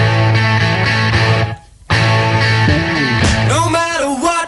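A 1971 hit recording plays loud and full, with a brief dip in level near the start before the song continues.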